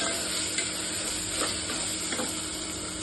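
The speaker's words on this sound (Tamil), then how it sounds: "சிம்மில் வச்சுட்டு இதையும் இஞ்சி பூண்டு போட்டு நல்லா பச்சை வாசனை போகிற வரலாம் வதக்கிக்கலாம்" Ginger garlic paste sautéing in a pan on a low flame, a steady close hiss and sizzle with a few soft stirring scrapes.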